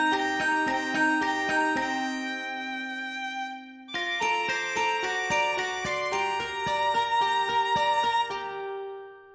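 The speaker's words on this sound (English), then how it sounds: "it also goes nicely with the celeste and the electric guitar and the moon guitar." Bright, tinkling celeste runs layered with electric guitar and moon guitar, played as a quick shimmering pattern in two phrases, with a brief gap between them and a ringing fade at the end; purely instrumental.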